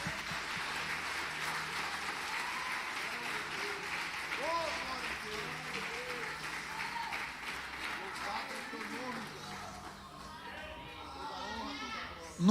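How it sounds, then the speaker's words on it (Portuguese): A church congregation applauds during a sermon, a sustained wash of clapping and cheering that fills the room at moderate level, with voices mixed in and tapering near the end. "Dê uma salva de palmas a Jesus"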